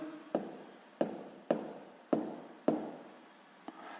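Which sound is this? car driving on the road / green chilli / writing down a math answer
writing down a math answer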